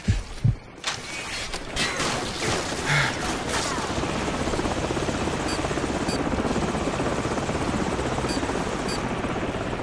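A helicopter in Call of Duty 4 Modern Warfare hovers with a loud, constant rotor thrum throughout, while a few sharp impacts and gunfire-like bursts punctuate the first seconds.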